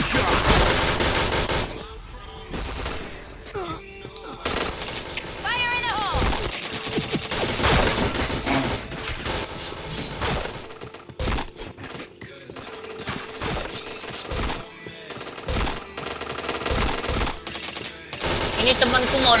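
Gunfire in the Point Blank online shooter, with rapid bursts and volleys of automatic fire and single shots, some near and loud, broken by short pauses, while a voice speaks at times over the action.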